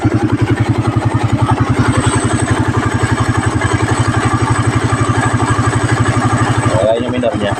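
A kick-started motorcycle engine idling at a steady, rapid thump, loud and close, continuing evenly throughout before the idle dips slightly near the end.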